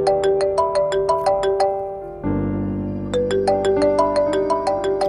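A mobile phone ringtone plays a bright, repeating melodic chime pattern, loud and close, pausing briefly midway before resuming, in an indoor scene from a Pakistani TV drama with a low music bed underneath.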